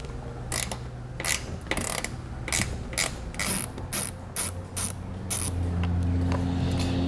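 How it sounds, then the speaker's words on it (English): Ratchet with a T15 Torx bit backing screws out of a plastic rocker panel on a 2016 Chevrolet Colorado, a steady series of sharp separate clicks in an even rhythm over a low hum, close. "we're going to grab a T15 Torx bit and we're going to pull those two screws out."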